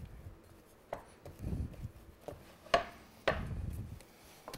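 Risen bread dough is punched down and handled by hand at close range, giving a few dull, soft thumps spread unevenly through the stretch, with light rubbing and squishing between them and no talking.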